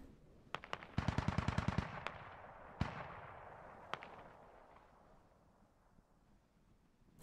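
Sporadic machine gun fire in the military video game Squad: a rapid burst of about ten loud shots, then a few isolated single cracks, each leaving a long fading echo that trails into quiet.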